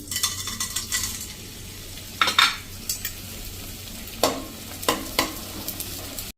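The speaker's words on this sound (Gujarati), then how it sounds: "જે આપણે ગુંદ અડધી કપ લીધો છે ને એ તરી લેશું" Edible gum (gond) fries in hot oil, a continuous bubbling sizzle broken by several sharp metallic clinks and scrapes of a spoon against the pan, close and without speech.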